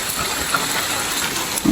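Heavy rain pours down steadily outdoors during a rural cooking session, a dense constant wash with a louder rumble swelling at the very end.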